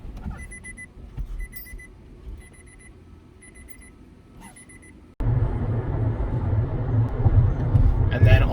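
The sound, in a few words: Nissan Altima warning beeper chiming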